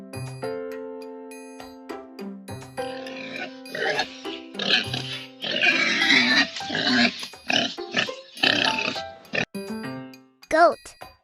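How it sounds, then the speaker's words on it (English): A pig grunts and oinks in a string of rough, close bursts of varied length, framed by bright chiming children's music and a short vocal cue. "pig,"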